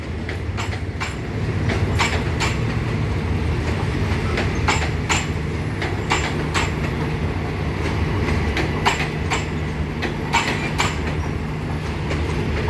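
Diesel locomotive GEA 4547 hauls a rapid train out of Bangkok railway station on a clear morning, with a steady, close rumble and repeated rhythmic clicks of wheels over rail joints.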